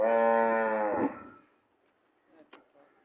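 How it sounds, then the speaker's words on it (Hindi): Friesian cross dairy cow mooing: one long, loud, close moo that fades after about a second, followed by faint shuffling and a brief knock. "दूसरे नंबर की गाय दिखाते हैं आपको।"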